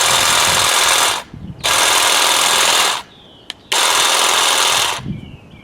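A SAKER 20V cordless hedge trimmer runs in three loud buzzing bursts of about a second and a half each, separated by short pauses in which the motor winds down.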